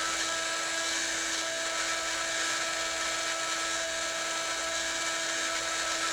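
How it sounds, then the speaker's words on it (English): High-pitched rotary tool whine carving an S-shaped recess for a white oak inlay into black walnut on a guitar headstock, steady and close, running continuously without a break. "You can see the S being carved reverse from what it was in the black walnut."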